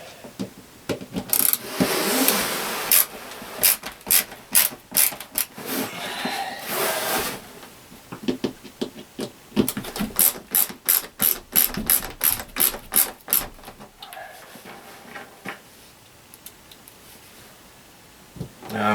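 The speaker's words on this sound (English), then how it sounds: "Now I want to center that over the hole. And then screw them in." Screws being driven in to mount a composting toilet in an off-grid tiny home, rapid bursts of ratcheting clicks from a hand screwdriver repeating in uneven runs, close and fairly loud with brief pauses between.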